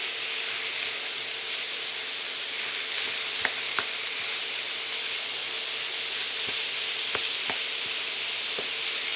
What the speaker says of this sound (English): smash that ground beef up and get it incorporated in here with the onions. And we're going to cook this for a few minutes